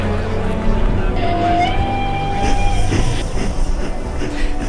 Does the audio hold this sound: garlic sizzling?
no